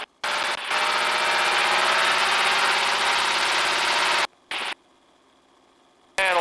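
A T-6 aircraft's propeller engine revs up to about 2,000 RPM, a loud, steady roar close by that cuts off abruptly, returns briefly, then drops away to quiet before resuming.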